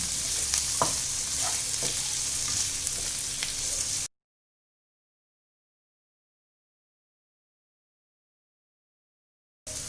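Spices being stirred in a hot pan after pounding in a mortar and pestle, a steady sizzle with scraping strokes for about four seconds, then silence until a brief return at the end.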